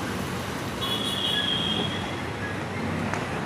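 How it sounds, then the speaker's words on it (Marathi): At a railway station, train wheels squeal in a sustained high metallic whine over a dense, constant rumble of moving rail cars, loud and close, with no voices. "आणि समोर आता रेल्वे स्टँड आलेलं आहे."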